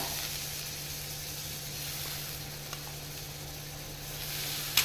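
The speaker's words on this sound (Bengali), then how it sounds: "এর মধ্যে একটু আদা লঙ্কা বাটা" Ginger and green chili paste sizzles in a pan, giving an even, continuous frying hiss with faint stirring scrapes, and a small knock right at the end.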